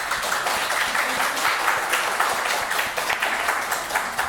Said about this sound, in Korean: 그냥 박수로만 환영합시다